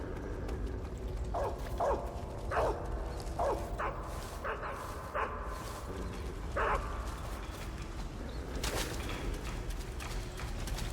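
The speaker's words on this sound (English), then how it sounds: "Really appreciate if he stopped barking though." A guard dog in the stealth video game Metal Gear Solid 3 barks in a series of short, sharp yips spread over several seconds, mid-distance, above a steady ambient game background.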